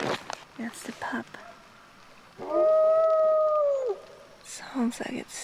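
A rainforest wolf pup gives a single drawn-out, wavering howl, calling for its pack; a nearby person speaks softly before and after it.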